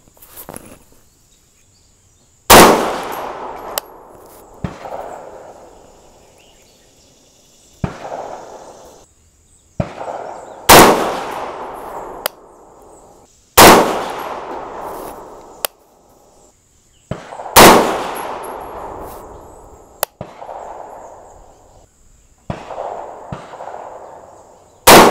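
6.5 Grendel rifle firing 123 grain AMAX bullets, a string of loud close gunshots spaced a few seconds apart, each with a long echoing decay, no talk.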